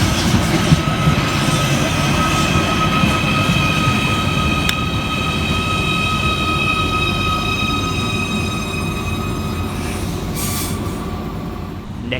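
A Merseyrail class 777 electric train rolls into a station, its steady loud rumble overlaid with sustained high whining tones and a faint wheel squeal. It continues for the full length without any talking.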